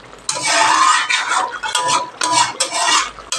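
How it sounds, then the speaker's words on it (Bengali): Garam masala stirred into a pumpkin and potato curry, a spoon scraping and clinking against the pot in several close bursts of stirring, with faint sizzling underneath and no voices. "দিয়ে ভালো করে মিশিয়ে নেব গরম মশলাটা"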